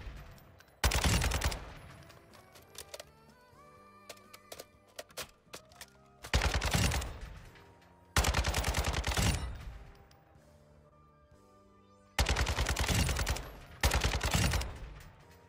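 An RPK light machine gun fires in a video game, with loud sustained bursts that start and stop, and short gaps of quieter game sound between them.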